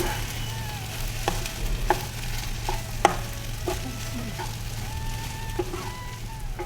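Tomato rice is stirred together in a pan over a steady low sizzle, with occasional soft spoon taps and scrapes close by.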